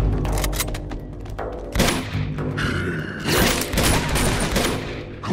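A heavy firefight in Uncharted 2: Among Thieves, with overlapping gunshots, booming impacts and crashes packed together in bursts, loud and close, with no talking.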